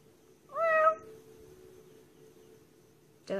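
A person imitates a cat's meow, one rising, whining call followed by a second short meow-like sound at the end, close and clear against a faint background hum.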